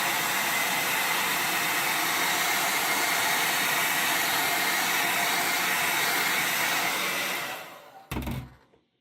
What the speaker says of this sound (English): it was pretty easy to use the hair dryer and take out that plastic film